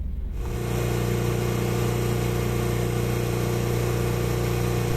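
A ship's compressor running steadily after being opened up for work in a cold winter area, a loud continuous mechanical hum with a constant low drone and rhythmic throb that holds unchanged throughout, with no talking.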